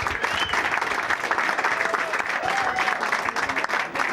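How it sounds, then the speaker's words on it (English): A football crowd applauds the club's founder in one sustained, dense burst of clapping and cheering that stays loud throughout, with a few voices calling out over it. "Will you give him a round of applause,"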